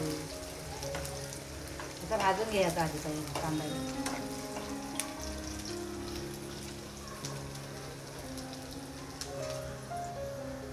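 Onion and garlic fry for a tempering in a pan over a wood fire, a soft continuous sizzle with a brief louder crackle early on and some faint voices in the background.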